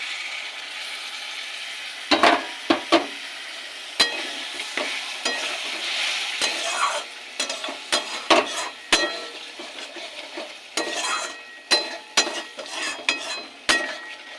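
Spices with coriander powder, a pinch of sugar and a little water being stir-fried for a cabbage kofta curry: a steady sizzle with repeated sharp spoon scrapes and clacks against the pan, fairly close, no voices.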